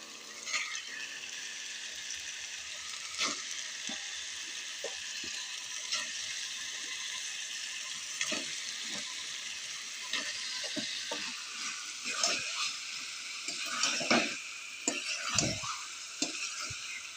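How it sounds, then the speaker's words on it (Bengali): Chicken pieces frying in oil with ground biryani masala in a pan, a continuous crackling sizzle broken by repeated scraping stirs of a spoon against the metal, close and steady throughout. "মশলাটা কষানো হয়ে গেছে। এবার এখানটাতে আমি চিকেনগুলো দিয়ে দেবো।"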